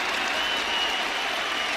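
Live crowd at a Counter-Strike esports match, Astralis vs FaZe at BLAST Pro Series Copenhagen 2018, applauds and cheers in a dense, steady wash of clapping that fills the whole moment.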